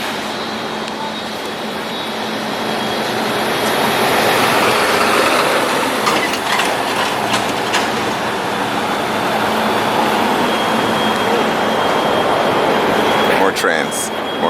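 Trains rumble past in Harlem, New York City, with a low roar that swells after a few seconds and holds steady and loud, a rattling clatter running through it and voices faintly audible.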